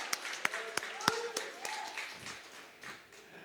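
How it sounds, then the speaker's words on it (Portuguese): A church congregation claps in scattered, uneven applause, a few sharp claps over a murmuring room that fades quickly into background voices. "Você pode aplaudir ao Senhor."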